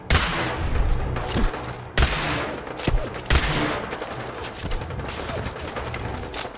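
Laser gunfire from a Fallout 4 firefight: a dense, continuous barrage of loud shots with several sharp bursts standing out, layered with other battle noise and no pauses.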